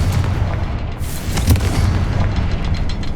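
Confringo fire spell explosions in Hogwarts Legacy, loud booming blasts with a crackling burst and rumbling low end, one sharper impact in the middle of a continuous roar.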